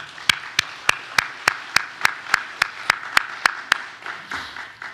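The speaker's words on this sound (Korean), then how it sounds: "감사의 박수 드립니다" A church congregation gives rhythmic thank-you applause, sharp evenly spaced claps landing together about three times a second, moderately loud, before they trail off.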